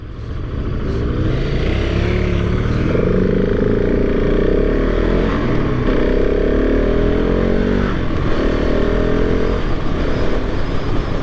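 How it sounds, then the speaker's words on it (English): A 2023 KTM 690 SMC R supermoto motorcycle being ridden through a corner, its single-cylinder engine droning loud and steady with slight shifts in pitch, heard close from the rider's position with wind underneath and no talking. "So let's take this corner here, nice and smooth around the corner."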